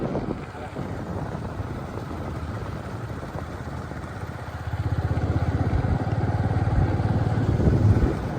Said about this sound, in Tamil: தனியாக கூட தான் போய் கொண்டிருக்கிறோம் மோட்டர் பைக்கில்